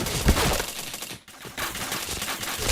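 Dense, rapid gunfire rattles almost without pause through a shooting video game match, loud and close, with a brief dip in the middle before the automatic bursts resume.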